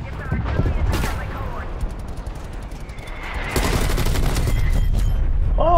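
Gunfire in Call of Duty Black Ops Cold War, with bursts of shots and booms spread through the scene while a player talks over the action.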